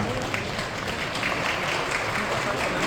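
Sustained applause from a crowd at a wedding, dense and even throughout, greeting a singer for the wedding song, with a voice talking faintly underneath.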